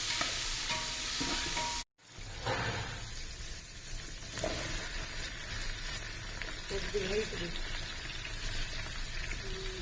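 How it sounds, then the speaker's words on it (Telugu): Sambar vegetables frying with onion and tomato in a pan, a steady sizzle and stirring that holds throughout apart from a brief dropout early on, with soft kitchen clatter. "టమాటా ముక్కలు వేగాక సాంబార్ ముక్కలన్నీ కలిపి"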